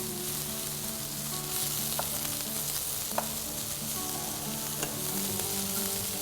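Onions frying in a pan as they brown, a steady dense sizzle and crackle with occasional sharp pops and light spatula clicks, close and continuous with no talking.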